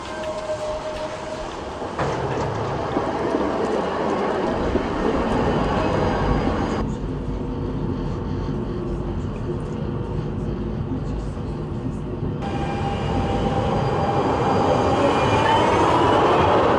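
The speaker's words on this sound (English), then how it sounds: "So this is my train to Frankfurt" A train waiting at a railway station, bound for Frankfurt: a steady, loud rumble of the idling train and station noise fills the whole stretch, with a brief change in tone midway as the sound shifts.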